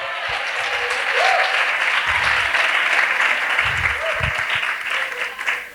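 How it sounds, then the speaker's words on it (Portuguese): A church congregation at a women pastors' gathering breaks into steady, dense applause that fills the room throughout, with occasional voices calling out beneath the clapping. "Você pode aplaudir esse Deus?"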